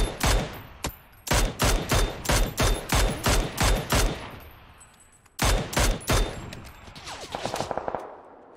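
Bursts of automatic gunfire in PUBG on the Miramar map, loud sharp volleys in rapid strings with short pauses between them, followed by a distant rattle of shots near the end.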